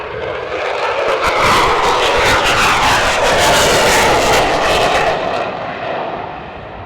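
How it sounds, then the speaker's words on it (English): An F-35 fighter jet at military power roars past in a low flyby at about 350 knots, swelling from a loud approach to a sustained peak and fading as it passes, with no talking. "you can not only hear it, but you can definitely feel the sound of the engine of the F-35"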